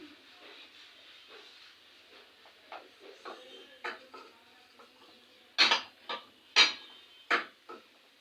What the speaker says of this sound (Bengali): এক পাশ হয়ে গেলে আবার একটু উল্টে দিচ্ছি।